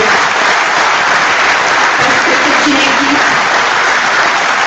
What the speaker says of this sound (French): s'il vous plaît, je vous demande de les applaudir